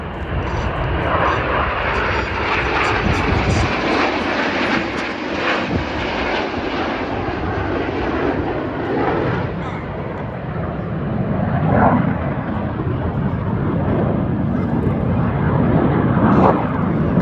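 Red Arrows jets roar past at the Duxford summer airshow, a loud sustained rushing engine noise that swells and fades as the aircraft pass, with a commentator faintly audible.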